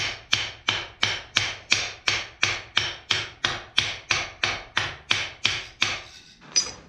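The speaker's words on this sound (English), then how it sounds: "it's just hitting it down with a ball peen hammer" Ball peen hammer striking down a hot nail to form its head during blacksmithing: about seventeen sharp, evenly paced metallic blows, close and loud, ending in a brief pause and one last lighter tap.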